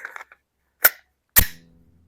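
Glock pistol fired at a shooting range, two sharp close gunshots about half a second apart, the second with a short echoing tail, after a few faint clicks.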